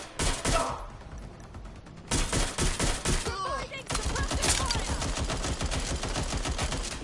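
Rapid bursts of automatic gunfire in Watch Dogs Legion, loud repeated volleys of sharp shots with brief pauses between strings, game chatter faintly underneath.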